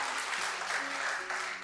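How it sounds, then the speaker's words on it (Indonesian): A church congregation claps together during a worship service, a steady wash of applause that stays even and close for the whole stretch, with faint voices mixed in. "Ayo tepuk tangan bagi dia, come on."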